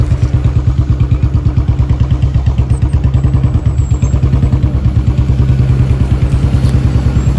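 A Royal Enfield Bullet motorcycle engine idles loud and close, its rapid, even thumping pulse steady throughout.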